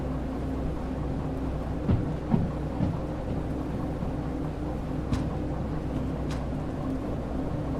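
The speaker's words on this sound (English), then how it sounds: "I think I just saw lightning, so a storm is definitely coming" A thunderstorm with steady rain in a train simulator game, continuous rain hiss with a low rumbling bed, a few faint thumps and sharp distant crackles scattered throughout.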